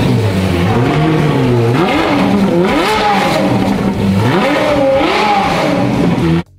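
An old Ferrari rental car engine revs hard and continuously, loud rising and falling throttle sweeps close up, cutting off abruptly at the end.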